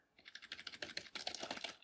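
Rapid, uneven key clacks from a MacBook keyboard running Windows Vista, a close, busy patter of typing with no voices.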